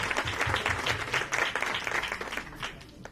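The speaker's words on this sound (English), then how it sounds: "How about a big round of applause?" A round of applause from the audience at a women's business expo, many hands clapping briskly and fairly close, then thinning out toward the end.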